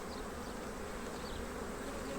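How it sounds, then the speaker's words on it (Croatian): Honey bees crowd thickly around an open hive frame, producing a dense, steady, close buzzing drone with no pauses. "Čim su ovako pčele nagrnule"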